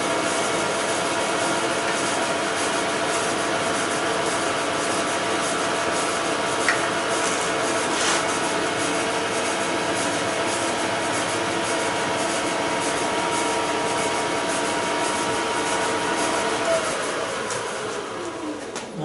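A power drill boring through a workpiece during a home workshop job, a steady continuous rasping whir held close and loud for nearly twenty seconds, slowly tapering off at the end.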